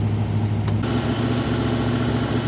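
A 1955 Ford engine idles steadily with the choke engaged, producing a close, even low rumble with a faint higher whir that shifts slightly partway through.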